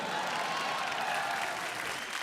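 Studio audience at a Hindi TV comedy show applauds continuously, a dense, even wash of clapping that stays fairly quiet and level across the short stretch.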